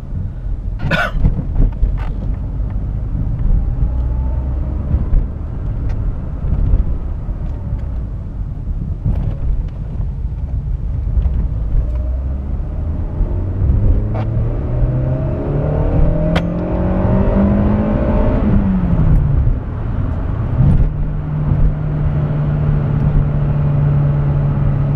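Citroen Saxo VTS 1.6 16V 120 from 1999, its engine pulling hard through the gears with rising revs, brief drops at shifts, then settling into a steady drone, loud and close throughout.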